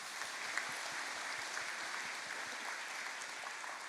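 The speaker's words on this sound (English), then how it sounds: "Round of applause for Suman." Audience applause at a university new student welcome and orientation, a dense, even wash of clapping from a large crowd, fairly distant and steady throughout, with no talk.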